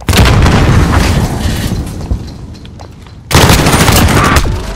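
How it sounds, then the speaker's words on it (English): A grenade blast and heavy gunfire erupt in Call of Duty: Modern Warfare team deathmatch: loud, dense, continuous booms and rapid shots fill the space, ease briefly, then surge back with a sudden powerful burst. "Grenade out!"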